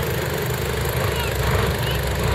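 A truck spins its tires in mud at a muddin' event, its engine churning in a steady, moderately loud drone with a rough low rumble throughout.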